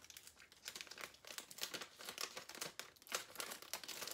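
Scissors trim an infusible ink border sheet, producing rapid crinkly cuts and rustling of the thin sheet in quick irregular bursts, close and fairly quiet.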